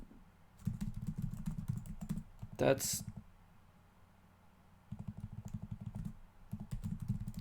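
Close, quick typing on a computer keyboard, running in two rapid bursts of clicking keystrokes with a quiet pause between them; a short voice cuts in briefly partway through.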